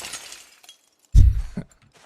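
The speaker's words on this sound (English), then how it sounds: "If you hit the window with the hammer, it will open." A single sharp crash of breaking glass, loud and close, with a brief scatter of shards afterward, set against near silence.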